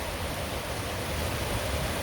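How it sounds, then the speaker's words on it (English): A waterfall and a raging river on a High Uintas mountain trail produce a steady, close roar of rushing water that fills the whole short stretch, with no talking. "that waterfall up there is like completely covering the trail"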